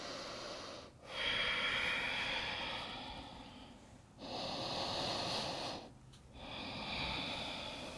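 Deep, slow breathing during a yoga pose: three long, close breaths rise and fall in a steady rhythm, each separated by a short pause, with no talking.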